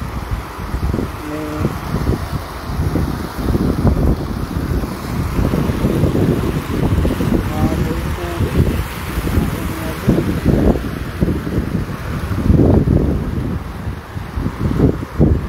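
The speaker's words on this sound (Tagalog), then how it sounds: "medyo malakas pa yung hangin dito." Strong night wind roars and buffets the microphone continuously near a rice paddy, with gusty surges; faint voices are briefly audible underneath.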